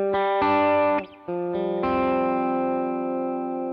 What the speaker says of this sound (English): so like a reverb